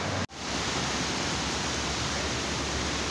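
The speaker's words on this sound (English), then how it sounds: "You can hear this water just rushing like crazy in this area right here." Water rushing hard along a woodland stream in Alabama, a loud, continuous broadband roar close by with a brief dropout near the start.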